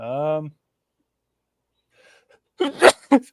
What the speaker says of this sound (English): I should really mute this when I'm sneezing